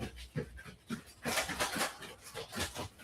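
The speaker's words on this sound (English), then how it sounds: "Y'all probably hear the pitter patter. My dog's coming in." A dog comes into a room panting, a quick rhythmic huffing of breaths that rises and falls, close by and fairly loud, with a few soft whimpers mixed in.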